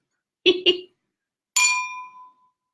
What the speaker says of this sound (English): Water in a wine glass has a much smaller, softer sound.